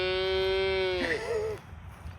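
A mini Highland cow lets out one long, drawn-out moo close by in a pasture. The call bends down in pitch and fades, and a short faint sound follows.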